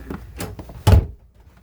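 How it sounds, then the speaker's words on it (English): A door being opened and closed: a few light rattles and knocks, then a solid close thump, followed by near silence. "Gotta let my boyfriend through the door."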